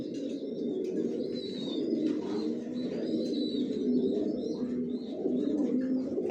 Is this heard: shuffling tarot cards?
no